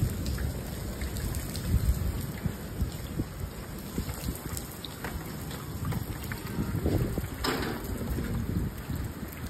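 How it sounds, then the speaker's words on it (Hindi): Heavy rain pours steadily in a city storm, a dense, constant hiss and patter with a low rumble underneath and no voices. "अभी भी जो है बहुत तेज़ बारिश हो रही है।"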